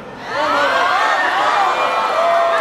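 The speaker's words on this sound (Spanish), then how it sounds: "Vamos a recibir con un fuerte aplauso" A crowd at a One Piece Okama queen stage event erupts into loud cheering and whooping, voices rising together and holding steady for a couple of seconds.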